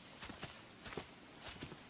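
Horses walking in the video game Red Dead Redemption 2, soft clip-clop hoofbeats in an uneven rhythm over a faint background bed, fairly quiet and somewhat distant.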